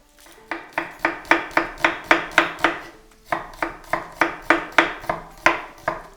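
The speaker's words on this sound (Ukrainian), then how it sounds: "Цибульку нарізали, я нарізав соломкою" Red onion sliced into strips with a knife on a board, a steady run of crisp, evenly spaced chops, close and loud, with a brief pause midway before the rhythm resumes.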